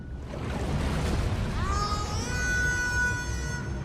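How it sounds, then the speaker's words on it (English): A steady rushing wash of water and wind, joined midway by a rising metallic tonal groan that holds as a submarine surfaces, a video game sound effect. "let's play the object emerging out of the water"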